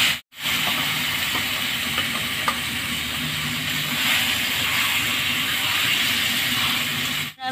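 Marinated young goat mutton hits a hot pan and sizzles steadily, a continuous frying hiss with faint stirring clinks, holding close and even throughout.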